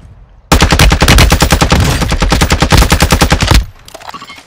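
Rapid gunfire in an online multiplayer shooter game, a sustained loud burst of evenly spaced shots lasting about three seconds, close and dominant, followed by a quieter tail.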